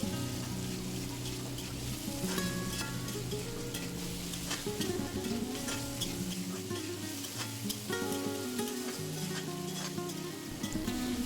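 Leftover rice fried with egg and a spoon of salt is stirred in a hot pan, producing a continuous scraping, crackling fry under soft melodic background music.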